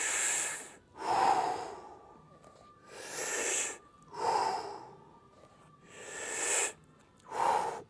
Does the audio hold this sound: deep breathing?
yes